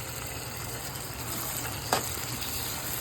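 Ginger-garlic paste frying in oil in a pan for an egg curry with broad beans, a steady close hiss with one brief louder crackle partway through, no voices.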